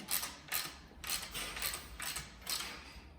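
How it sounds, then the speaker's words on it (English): A wrench tightens bicycle stem bolts, giving a series of about six short ratcheting creaks spaced roughly half a second apart, close and fairly quiet, with no voices. "Now tighten up the stem bolts, centre the stem with the front wheel"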